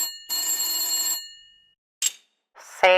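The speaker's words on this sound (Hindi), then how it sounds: "तभी टेलीफोन की घंटी बजती है।" A telephone bell rings in a sustained metallic trill, stops, then gives a short burst, followed by a brief tonal sound near the end, in a quiet indoor setting.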